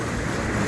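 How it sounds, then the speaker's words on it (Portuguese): Turbulent river rapids and waterfall water rush around an aluminium canoe on the Mapuera River, a loud, steady broadband roar with no talking. "muita cachoeira, muita água, muita pedra, muito perigo"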